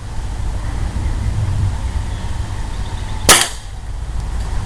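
A single sharp gunshot during a squirrel hunt cracks out close and loud over a steady outdoor wind and background hum, then fades quickly.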